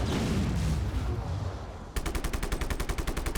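Gunfire in the video game Just Cause 3: a heavy blast fading out, then a fast rapid-fire burst of evenly spaced automatic shots, loud and close.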